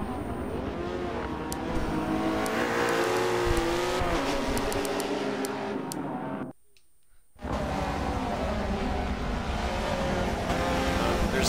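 McLaren race cars roaring around the Sebring circuit in a Michelin Pilot Challenge sports car race, a loud sustained engine drone with shifting pitch that drops out briefly before resuming at full volume.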